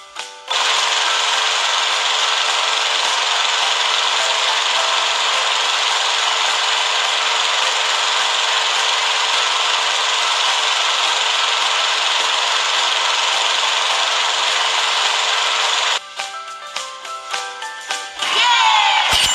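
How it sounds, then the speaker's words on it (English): A lawn mower hums steadily and loudly in a kids' cleaning video game as the yard is mowed, a continuous synthetic drone that cuts off near the end before a short burst of game sounds. "Let's mow the yard."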